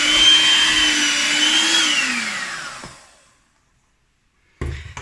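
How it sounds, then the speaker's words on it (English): An electric hand mixer kneads gluten dough, a close, loud motor whine that wavers, drops in pitch and winds down to silence, then starts up again briefly at the end. "I'm going to use this hand mixer"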